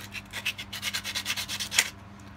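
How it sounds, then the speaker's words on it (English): Handheld 100-grit sandpaper scrubs a cigar box guitar single-coil pickup in quick, even back-and-forth strokes, about a dozen close, loud rasps in a steady rhythm before stopping. "just get 100 grit sandpaper and then go to town on this thing"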